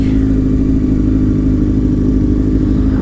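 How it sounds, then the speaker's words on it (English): A motorcycle engine drones loudly and continuously at close range, a thick low mechanical hum with slight rattle, holding steady throughout. "I can't tell if this is a motorcycle caught behind me or just another bike"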